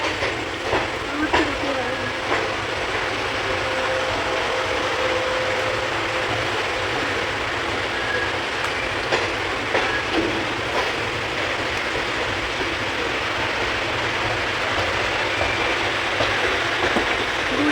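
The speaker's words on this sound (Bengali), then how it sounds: "এখন ট্রেনটা ডুলডুল ডুলডুল ডুলডুল ডুলডুল করতে পারছিল" A passenger train rolls along the tracks after leaving Bardhaman at night, giving a steady rumble with faint rhythmic clatter and occasional clicks, while low voices murmur in the background.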